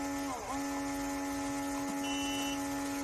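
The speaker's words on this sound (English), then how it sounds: "ring up more points than the high score by activating the buzzer" A buzzer on an electronics-course game project sounds a steady electronic tone that runs through the whole short stretch at moderate loudness, with a faint hum beneath.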